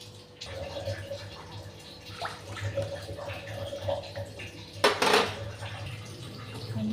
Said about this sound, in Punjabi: ਹੁਣ ਆਪਾਂ ਇਹਦੇ ਵਿੱਚ ਪਾ ਦਾਂਗੇ ਜੀ ਪਾਣੀ